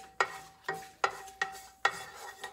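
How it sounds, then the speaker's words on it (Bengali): Panch phoron and dried red chillies fry in hot oil, heard as a few quiet, evenly spaced crackling pops and stirring scrapes. "5 ফোড়ন আর শুকনো লঙ্কাটা অল্প করে একটু ভেজে নিলাম"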